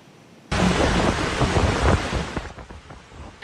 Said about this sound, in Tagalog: Makikita sa video ang naranasang malakas na hangin at ulan na nagdulot ng storm surge